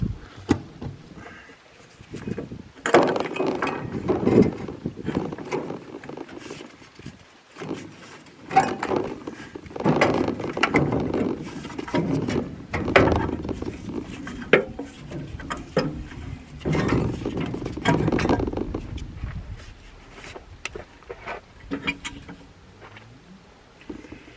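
Wrench work removing the inlet manifold from an abandoned Case David Brown 1394 tractor engine: repeated metallic clanks, scrapes and rattles in bursts, fairly close, with no speech.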